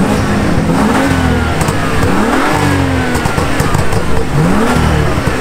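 BMW exhaust revving with its valves closed at a Melbourne car meet, three rising and falling engine revs over a steady loud rumble, close by with no talk.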